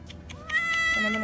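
A cat meows during a blood draw, giving a rising, drawn-out wail that swells partway through and carries on to the end, with a person's soft voice briefly underneath near the start.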